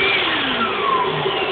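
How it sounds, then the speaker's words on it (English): A Dyson vacuum motor repurposed as the pump of a homemade vacuum forming machine runs loud and steady, a continuous high whine with a rising pitch sweep, close up and alone. "That Dyson pump under there is evil."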